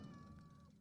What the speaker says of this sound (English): that's just a cat.